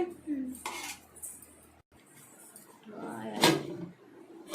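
Spoon clinking and scraping in a pot of tamarind fish curry being stirred gently, a few distinct metallic knocks with a louder clatter near the end, close and fairly quiet.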